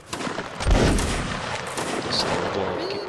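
Musket volleys crackle in a Mount and Blade Napoleonic Wars Waterloo battle, a loud continuous roll of overlapping gunshots from a firing line with a heavy burst near the start.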